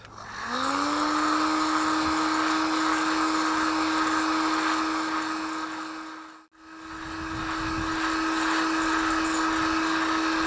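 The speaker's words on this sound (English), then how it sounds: "I'm putting the nozzle of the heat gun actually directly into the beans." A heat gun blows with a steady, whining roar, its nozzle pushed straight into coffee beans that are being roasted; the airflow briefly cuts out partway through, then comes back on without any talking.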